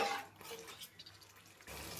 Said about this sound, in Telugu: ఇప్పుడు ఇందులోకి తగినన్ని వాటర్ కూడా అడ్జస్ట్ చేసుకోండి